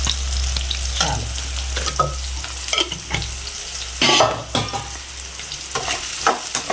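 Onions and turmeric fry in a pan with a close, continuous sizzle, while repeated stirring strokes scrape and rustle through it and a low hum sits underneath.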